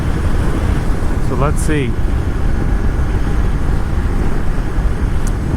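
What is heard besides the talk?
car driving through suburbs of McKinney, Texas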